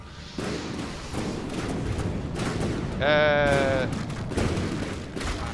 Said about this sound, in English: Point blank broadside. Mine versus yours.